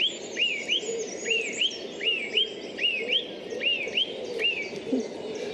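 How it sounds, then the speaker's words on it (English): A robin sings its territorial song from a high perch in a park, repeating short, bright whistled phrases about every half second, close and clear over a soft outdoor background. "it's singing from a high point, but it's warning other robins not to come into this territory"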